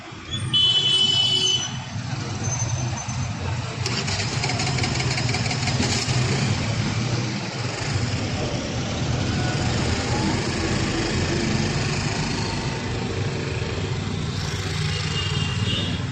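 Busy road traffic with many vehicles, a continuous rumble of idling and moving car and truck engines close by, holding a steady loud level throughout without speech.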